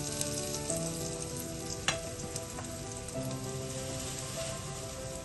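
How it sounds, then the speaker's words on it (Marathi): Brain fry (bheja fry) sizzles steadily in hot oil in a pan over a low flame, with a continuous dense crackle and a few sharper pops and spatters along the way, close and alone without any talking. "मंद गॅसवर हा भेजा फ्राय आपण करून घ्यायचा आहे."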